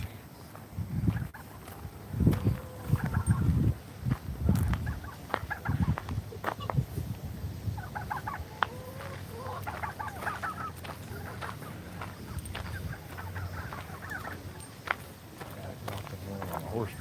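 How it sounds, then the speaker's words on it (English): Several turkeys cluck and gobble nearby in irregular bursts, with footsteps and rustling, and a person talking at times, at an outdoor flea market. "Look at all these turkeys."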